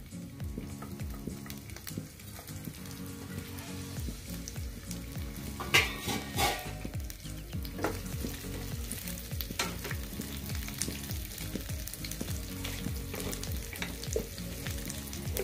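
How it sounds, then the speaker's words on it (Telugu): Onion and green chilli tempering fries in a pan with a steady, close sizzle, broken by occasional scrapes and clinks of a spoon stirring against the pan, with no talk. "ఉల్లిపాయ పచ్చిమిర్చి తాలింపు కండి"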